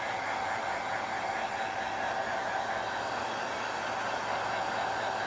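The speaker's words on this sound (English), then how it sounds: "I do get my hairdryer on a low heat and just give it a quick blow from a distance" A hair dryer on low heat blows in a steady, even whoosh, moderately loud and unbroken throughout, with no voices.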